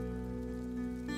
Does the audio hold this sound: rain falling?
yes